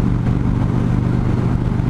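A 2015 Victory Hammer 8-Ball motorcycle with a 106 cubic inch V-twin and fat rear tire, riding under a loud, steady low engine rumble with a continuous throbbing pulse and wind, heard up close with no voices.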